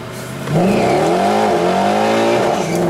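A Mercedes car revs hard, its engine note climbing in pitch, dipping briefly as it drops into third gear, then pulling up again. The sound is loud and close, with some tire noise.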